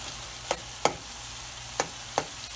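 Spicy potatoes frying in a pan over a steady low sizzle, with four sharp scraping strokes of a spoon at irregular intervals and no talking.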